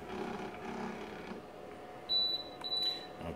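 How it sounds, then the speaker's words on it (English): A low hum from a Keurig K-Cafe coffee brewer fades out, then a thin electronic beep sounds twice as it finishes, clear and close, with a short pause between them. "just beeped, so that indicates that it's done."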